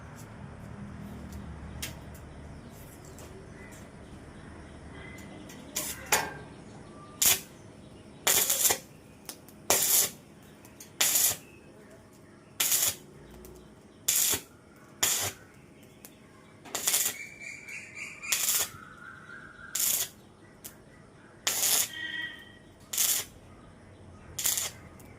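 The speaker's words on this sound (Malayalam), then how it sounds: "ഞാനൊന്ന് വെൽഡ് ചെയ്തിട്ട് കാണിക്കാം കേട്ടോ." Welding during a home workshop demonstration: a steady series of short, sharp crackling bursts spaced a second or two apart, close and clear over a low background hum.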